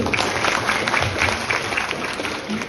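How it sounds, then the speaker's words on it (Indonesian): An audience at an Indonesian Ministry for the Protection of Migrant Workers event bursts into applause, a continuous wash of many hands clapping at even volume with no clear gaps. "Kita tepuk tangan semuanya di sini."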